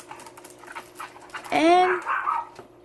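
A pet dog lets out a loud, close bark with a whiny, drawn-out tone, following a stretch of someone speaking in an indoor room.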